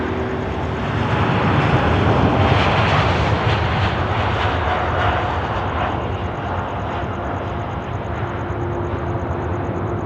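A large airliner takes off at Sydney Airport at dusk, a loud, broad jet roar that swells and then holds steady for about ten seconds with no talk over it.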